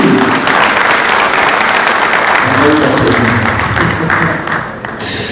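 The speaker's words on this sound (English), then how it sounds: "Once again, a big round of applause for them and for me" Loud, sustained applause from a conference audience fills a large hall, continuous dense clapping that tapers slightly near the end, with faint voices mixed in.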